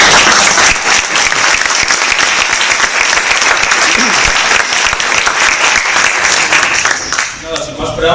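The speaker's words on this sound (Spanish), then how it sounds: "Un aplauso para él." An audience at a talk on jet in Asturias bursts into loud, dense applause that continues steadily for several seconds, then thins out and fades near the end.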